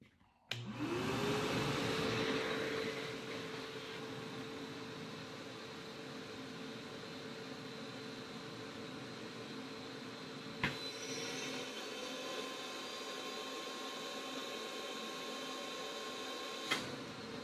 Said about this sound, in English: then I'm going to deadhead the hose and see how many amps it pulls under a load